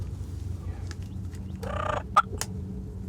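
A wild turkey gobbles once at middle distance during a hunt, a short rattling burst followed by a couple of sharp calls over a low outdoor background.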